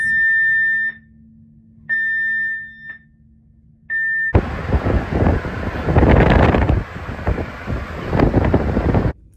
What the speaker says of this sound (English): setting alarms off for like crew drills